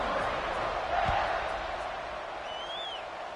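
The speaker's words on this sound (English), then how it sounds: "this crowd is buzzing after that last score" A football stadium crowd buzzes after a score, a steady broad roar filling the whole stretch, loud and continuous with a brief thump near the start and a faint whistle-like tone later.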